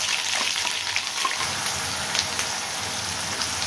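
A ground onion and coconut paste hits hot oil already holding mustard seeds and cumin, giving a loud, dense, continuous sizzle and crackle close up, with no talking.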